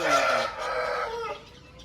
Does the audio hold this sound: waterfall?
no